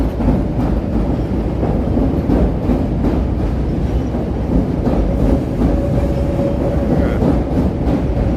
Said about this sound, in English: there's the train round in the bend there. There's another brown line heading around the loop there